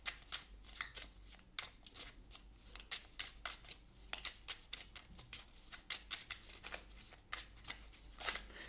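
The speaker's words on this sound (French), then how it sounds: "On va demander une carte ici au petit oracle de Merlin." Cards from a small Merlin oracle deck being shuffled and drawn, a close, dry run of quick riffling flicks and soft slaps repeating in irregular bursts over a quiet room, with no talking.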